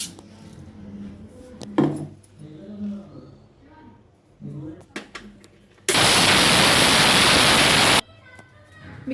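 A kitchen mixer grinder whirs loudly for about two seconds as it grinds spices with sesame seeds to powder, a dense, even roar that begins and stops abruptly after scattered clinks and handling sounds.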